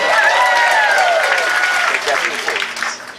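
A crowd at a late-night comedy show applauds an audience member, the clapping loud and sustained before tapering off, while a voice talks over it.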